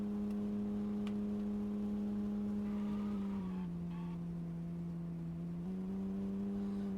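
Sedan in the survival game No One Survived accelerating, a steady synthetic engine drone that holds its pitch, dips briefly and rises again, loud and close with no talk over it.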